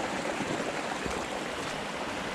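A small brook in the High Tatras mountains burbles and rushes steadily, close by, a continuous watery wash with no voices.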